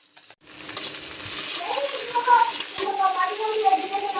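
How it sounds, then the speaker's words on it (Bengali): Fish frying in a pan gives a steady crackling sizzle that starts after a short silence and holds at moderate loudness, with a faint voice-like murmur in the background. "মাছ ভাজা প্রায় কমপ্লিট।"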